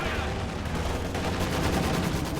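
Dense, continuous gunfire rattles through a war strategy video game battle, with rapid machine-gun bursts layered over a steady roar of combat, loud and without a break.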